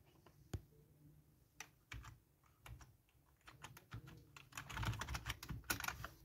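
Typing on a Tesco computer keyboard: sparse key clicks at first, building into a faster, denser run of close, crisp keystrokes with no talk.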